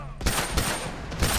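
Rapid gunfire bursts in a match of the video game The Last of Us, four or five sharp loud shots within about a second and a half, with a voice under them.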